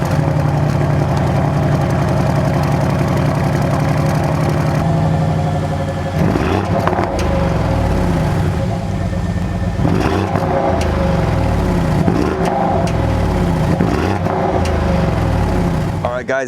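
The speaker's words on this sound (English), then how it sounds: "let's hear a cold start on the beautiful 2024 Cayenne S" A 2024 Porsche Cayenne S V8 fires up from a cold start: a loud rumble, then a sharp rev flare around six seconds, settling into a steady, throaty high idle with small blips, close up and alone.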